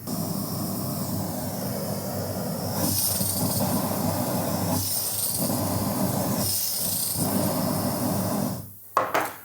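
A Jetboil Stash gas stove, an unregulated backpacking burner, roars steadily with a loud close-up rushing hiss that surges and dips in waves, then cuts off near the end with a couple of clicks.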